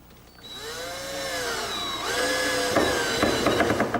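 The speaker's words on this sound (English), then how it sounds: "Be sure to drill pilot holes in the countertop before securing it." A power drill boring pilot holes in a kitchen countertop runs steadily, its motor whine rising and dipping in pitch, loud and close with no talking.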